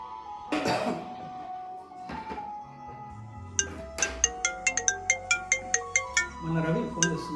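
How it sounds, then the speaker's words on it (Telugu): A mobile phone ringtone for an incoming call plays a repeating series of bright, evenly spaced electronic tones, moderately loud and close, after some earlier indistinct noise and throat sounds. "మన రవి ఫోన్ చేస్తున్నారు."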